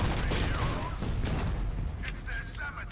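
Full-auto weapon fire in a video game: a dense, continuous rattle of rapid shots, loud and close, with a brief tonal game effect near the end, under a speaking voice.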